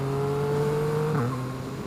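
Yamaha MT-09 motorcycle engine droning steadily at a held pitch, then dipping briefly as the rider shifts and settles back in, on a road on the edge of Sydney near sunset.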